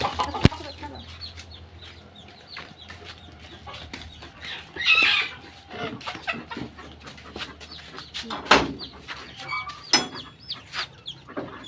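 Chickens clucking in a household yard, scattered short clucks and rustling amid clatter and handling noises, with a few sharper squawks.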